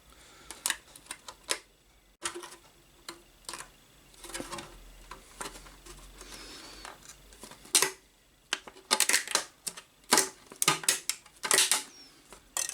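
A plastic Tamiya Terra Scorcher RC car body is bent and torn by hand, producing close, irregular plastic crackles, clicks and snapping bursts that grow louder and busier in the second half, with no talking.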